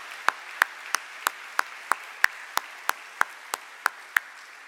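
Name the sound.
graduation audience applause for professors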